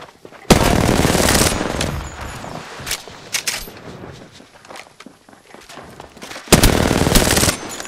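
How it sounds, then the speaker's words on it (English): Automatic gunfire in Apex Legends, loud bursts opening and closing the stretch with scattered single shots and footsteps between, no talk. "I am taking fire, friends."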